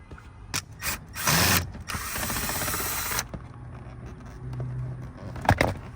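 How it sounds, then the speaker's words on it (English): Ratcheting screwdriver or tool backing out a Phillips screw beneath a dash cover on a 2007–2012 Nissan Altima, close clicking pawl bursts and a longer stretch of steady ratchet whirring, ending with a few light taps and clunks. "there's a Phillips screw here, so we're gonna have to remove it to drop this panel back down."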